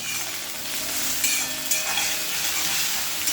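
Finely chopped onions sauté and sizzle in hot oil for a Gujarati potato bharthu, a steady bright frying hiss with occasional stirring scrapes, close and continuous with no talking.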